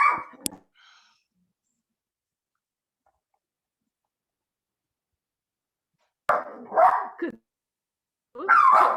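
A dog being dog-sat barks and yips in short bursts, near and fairly loud, separated by a long stretch of silence during an online committee meeting.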